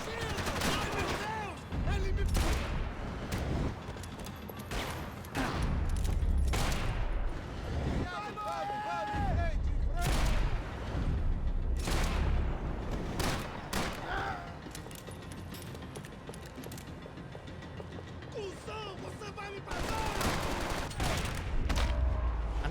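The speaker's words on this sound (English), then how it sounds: "I'm glad none of those shots hit." Gunshots in Max Payne 3 in a favela firefight: repeated loud shots and heavy volleys run almost without a break, with a voice talking over the shooting.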